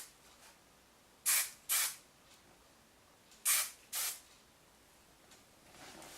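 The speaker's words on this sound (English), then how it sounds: "nothing is combed out yet, we're just going to spray lightly" Hair mist sprayed lightly over uncombed hair for beach waves, heard as two pairs of short, soft hissing bursts with a gap between pairs, close and fairly quiet against a still room.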